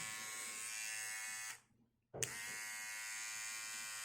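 A battery-powered ear and nose hair trimmer runs with a steady high-pitched electric whine, stops for about half a second, then restarts with a click and buzzes on evenly, close up.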